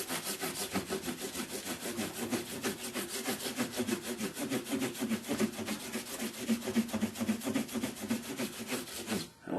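Guitar fret wire on a hollow-body Gibson-style ES-335 restoration is rubbed with 8000-grit abrasive, making a close, rhythmic back-and-forth scratchy rasping in quick even strokes, heard alone without talk.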